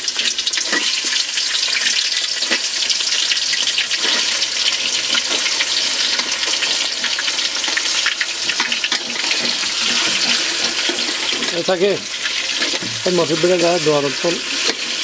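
Pieces of meat frying in oil, a steady loud sizzle filling the whole stretch with scraping stir sounds, and a brief voice near the end.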